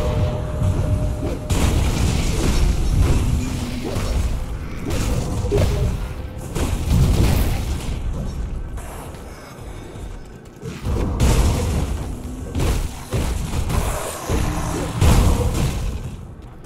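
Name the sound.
zombies exploding from Lightning Shaman attacks in video game Grim Dawn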